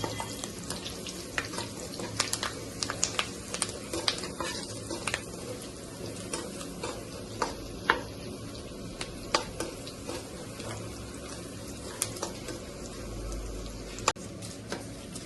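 Curry leaves crackle and sputter in hot oil for a tomato omelette curry, a close, steady sizzle broken by sharp pops and the scrape of stirring, with no talking.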